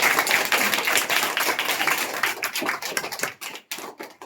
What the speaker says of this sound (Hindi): तो इनके लिए एक बार जोरदार ताली तो बनती है।